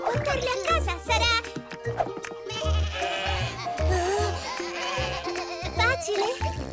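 Cartoon sheep bleat repeatedly over lively background music, the calls rising and falling in a rapid wavering pattern throughout.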